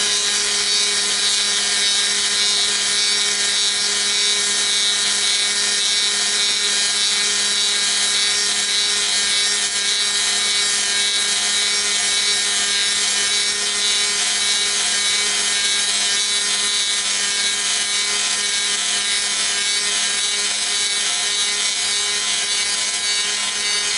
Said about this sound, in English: Shut off the Dremel, shut off the lathe.